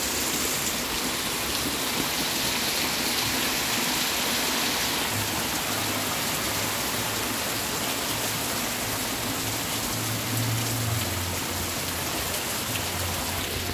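Steady rain falls outdoors, a dense, even hiss that holds at the same level throughout, with a faint low hum underneath and no voices.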